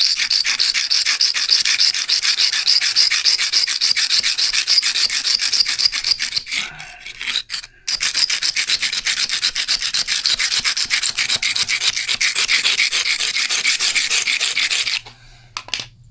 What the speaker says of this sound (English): It is scraping a little bit of concrete off, but that's just what we got to do to clean this up.